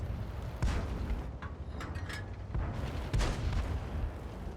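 Tank cannon fire in World of Tanks on the Himmelsdorf map, with a few heavy booming shots spaced irregularly over a steady low battle rumble, moderately loud.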